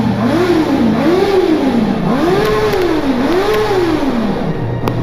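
A 2019 Honda CB650R motorcycle's engine is revved repeatedly while stopped under a bridge, the note rising and falling in several loud, resonant sweeps close by with no talking.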